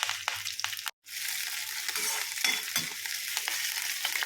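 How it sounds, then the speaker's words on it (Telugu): Green chillies and curry leaves sizzle and crackle in hot oil in a pan while being stirred. A steady frying hiss is broken by a brief silence and a few soft scraping strokes. "కొంచెం పచ్చిమిరపకాయలు, కరివేపాకు వేసుకోండి. ఇది కొంచెం లైట్గా ఫ్రై చేసుకోండి."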